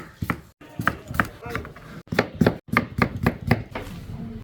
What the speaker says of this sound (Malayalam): കക്കയുടെ രണ്ട് തലി മുറിച്ച് കളയാം ബാക്കി ചെറുതായി കട്ട് ചെയ്യാം